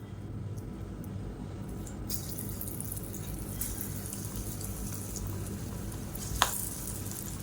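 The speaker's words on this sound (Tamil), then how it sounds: "இப்போ எண்ணெய் நல்லா காஞ்சிருச்சு. சின்ன சின்ன பக்கோடாவை நம்ம உருட்டி போட்டுக்கலாம்." Small pakoda fritters dropped into hot oil, frying with a steady low sizzle and bubbling close by, plus a few soft splashes and one brief sharp clink near the end.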